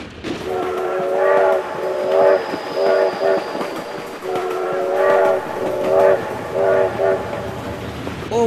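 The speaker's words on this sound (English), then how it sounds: "my god, train!" A train passing in the BeamNG Drive driving game, its horn sounding in repeated loud pulsing blasts over a steady rumble across the whole stretch.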